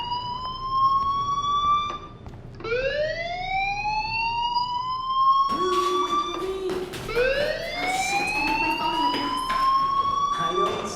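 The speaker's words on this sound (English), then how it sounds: "do you hear that fire alarm? That means you should be outside." In the video game Life Is Strange, a siren-like fire alarm wails in rising sweeps that repeat, loud and steady across the scene, with background noise and a voice speaking briefly in places.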